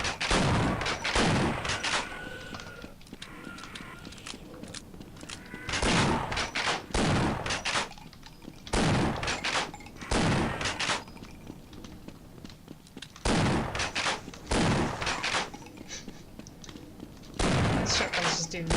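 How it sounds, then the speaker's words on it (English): Shotgun blasts in the Half-Life game Xen chapter, several loud broadband bursts in clusters spread through the stretch, with a low ambient game hum between them and no talk. "Shotguns just do nothing at range."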